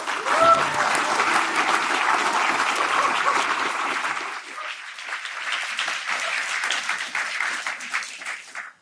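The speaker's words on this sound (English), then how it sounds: "So please give them a round of applause." Sustained audience applause for poets at a poetry gala, a dense wash of clapping that stays steady for several seconds, dips briefly, then swells again before fading out at the end.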